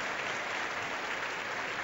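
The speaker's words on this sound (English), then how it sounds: "Applause." Audience applause for figure skater Keiji Tanaka at a world championship free skate, a steady dense wash of clapping from a large arena crowd, continuous and even throughout.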